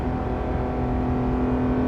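Porsche 991.2 GT3 RS with its side muffler deleted, a loud steady engine drone holding a strong even tone throughout, close and continuous with no talk.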